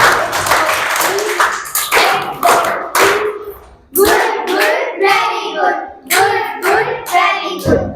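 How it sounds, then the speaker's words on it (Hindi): Primary school children clap together in a classroom during an admission-day event in Kotdwar, a loud, uneven patter with bursts and pauses, with voices calling over it. "अब आप जरा तालियां बजा दो उसके लिए"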